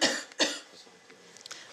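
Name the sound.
coughing after a forced exhalation breathing test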